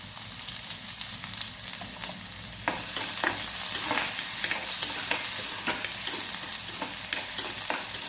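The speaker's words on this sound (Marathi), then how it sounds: "मिक्स करायचं आहे छान आणि जास्त काही गोल्डन कलर आणायचा नाही आपल्याला कांद्याचा फक्त थोडंसं असं परतून घ्यायचं आहे" Onion, garlic and cumin sautéed in a pan, a steady close sizzle that swells louder partway through, with repeated scraping stirs and no talk.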